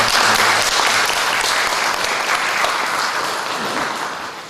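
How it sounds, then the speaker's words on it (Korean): Congregation applauding at a church gathering, a dense, steady wash of clapping that stays loud throughout and tapers slightly toward the end. "열심히 활동하는 분들에게 박수 한번 할까요?"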